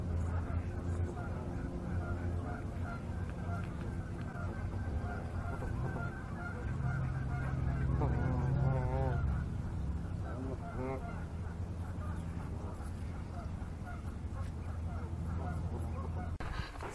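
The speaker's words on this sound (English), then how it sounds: "we got some guy feeding some geese and ducks here." Geese and ducks honk repeatedly as they are fed in a park in Redmond, their calls moderately close over steady outdoor background noise, with people talking nearby.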